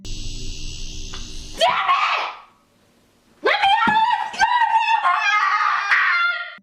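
A woman screams and sobs in a horror scene at a locked door, loud, piercing cries in two bursts separated by a brief near-silence, after a steady hum at the start.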